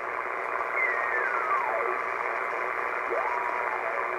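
An ICOM 720A HF ham receiver tuned across the band gives a steady hiss of static with a faint whistling carrier sliding down in pitch, followed by another brief swooping tone.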